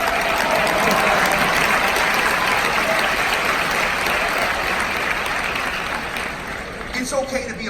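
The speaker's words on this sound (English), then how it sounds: "you can go ahead and applaud" A large crowd at a business school undergraduate commencement ceremony claps in sustained, loud applause that holds steady, then thins slightly near the end as a voice begins.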